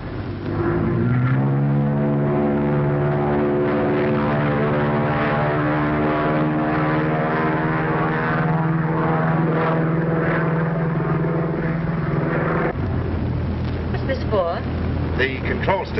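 A 1930s propeller airplane drones loudly and steadily in flight, its engine tone rising early and holding before dropping to a lower pitch near the end, with people talking over it.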